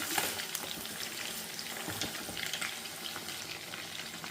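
Large chicken kabab pieces frying in a pan, a dense, steady sizzle with scattered crackles and pops, close and continuous throughout.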